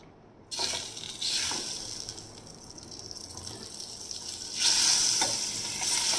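Butter melts and sizzles in a hot frying pan, set on for butter garlic mushrooms. The sizzle starts abruptly with a bright hiss, steadies to a soft crackle, then swells louder near the end. Nobody speaks.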